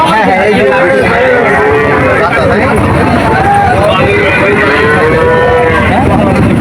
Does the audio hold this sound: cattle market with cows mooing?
yes